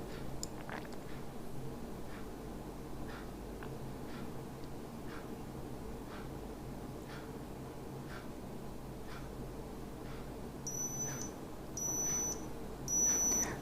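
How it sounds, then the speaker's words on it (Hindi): A digital thermometer gives three short, high electronic beeps near the end to signal the final temperature reading, after a long stretch of faint, regular ticking clicks in a quiet room. "ये जो बीप का साउंड बज रहा है कुछ इस तरह से बजेगा"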